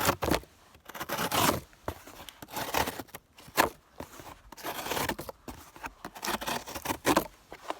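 A Gerber Fastball knife slices through cardboard with a run of close, scratchy cuts and scraping strokes.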